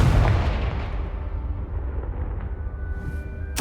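A Confringo blasting curse explosion in Hogwarts Legacy: a loud, deep boom right at the start that rolls and decays over several seconds, ending with a short crackle.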